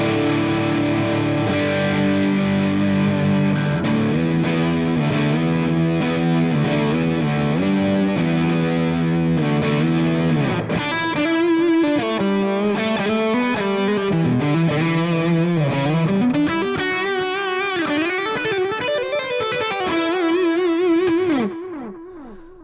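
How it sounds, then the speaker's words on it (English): Electric guitar playing open power chords through a BOSS JB-2 Angry Driver pedal, giving a high-gain, tight, lower-midrange distorted tone. The chords ring loud and sustained for about twenty seconds with no talking. "I'll just play some open power chords."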